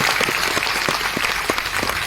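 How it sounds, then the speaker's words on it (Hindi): Loud applause from a seminar audience at an RCM motivational talk, dense and steady clapping with sharp individual claps standing out, nearby and filling the whole stretch without any voices. "ताली तो बजाइए जोरदार।"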